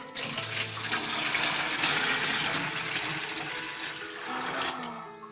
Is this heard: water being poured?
yes